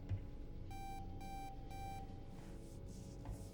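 A spacecraft's 1202 program alarm beeps in three evenly spaced bursts of bright repeated tones over a low, steady cabin hum, with no talking over it.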